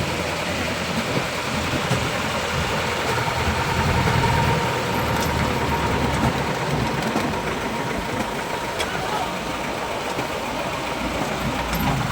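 Dense, steady roar of heavy rain pouring down continuously at sea, loud and close, with no voices.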